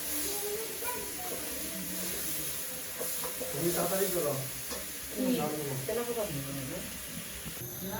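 Turmeric and chili sizzle and hiss in a pan of peanut curry while a spoon stirs and scrapes through them. The frying stays steady throughout, with voices talking over it.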